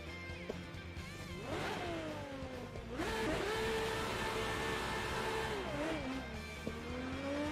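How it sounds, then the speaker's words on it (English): Race car engine in Assetto Corsa revving hard out of the pits, rising and falling pitch sweeps with gear changes, loud and close with a sustained high-revving howl. "Give it a big old rev out of the pits."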